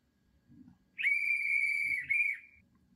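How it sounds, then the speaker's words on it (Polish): A BR42 model steam locomotive whistle from an ESU LokSound 5.0 sound decoder sounds one shrill, steady tone for about a second, dips briefly, then gives a shorter second toot. Faint mechanical noise sits underneath. "Funkcja 10 to jest gwizdek."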